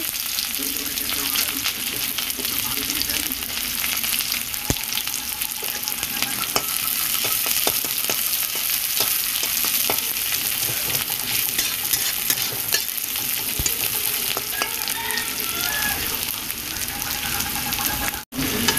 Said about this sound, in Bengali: তেল দিয়ে দিয়েছি, কালো জিরে ফোড়ন দিলাম, পেঁয়াজ কুচি